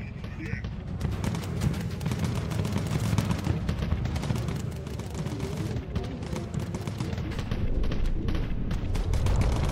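Rapid gunfire from the bomber video game Bomber Crew rattles continuously as a dense stream of sharp crackling shots, with a person talking over it.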